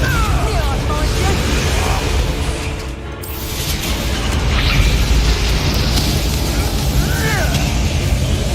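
A Confringo blasting spell in Hogwarts Legacy erupts as a loud, rumbling explosion that swells, dips briefly, then booms again amid crackling debris and a continuous roar of game action.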